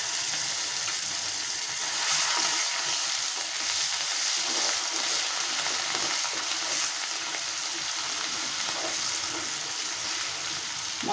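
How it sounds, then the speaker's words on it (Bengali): Ginger and cumin paste with chili and turmeric powders sizzle steadily in hot oil as they are stirred, a constant close frying hiss with soft scraping throughout. "এখন মশলাটা ভালো করে কষাবো।"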